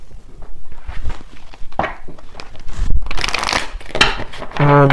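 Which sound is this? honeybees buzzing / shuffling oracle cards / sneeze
shuffling oracle cards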